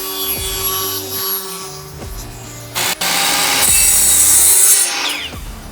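A strip is sawn from a piece of scrap wood, with a close, rough rasping cut, knocks and scrapes of handling, and a louder, denser burst of cutting near the end.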